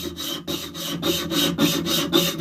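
A hand saw cuts through wood in steady back-and-forth rasping strokes, each pass a rough scrape with brief pauses between, close and fairly loud, with no talking.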